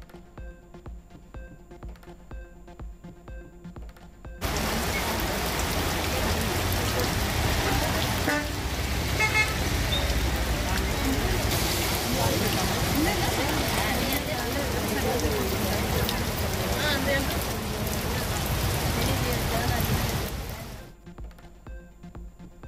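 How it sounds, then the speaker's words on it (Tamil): A sudden summer downpour in Tamil Nadu: dense, even rain noise starts abruptly and holds steady for about sixteen seconds before cutting off. Quieter background sound with a faint musical bed sits on either side. "தமிழகத்தின் பல்வேறு மாவட்டங்களில் திடீரென பெய்த கோடை மழை."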